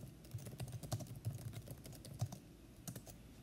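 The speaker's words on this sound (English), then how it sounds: "go ahead and just type it in." Fingers tap on a computer keyboard, a quiet, close run of irregular clicks over a few seconds with a brief pause before a final couple of keystrokes.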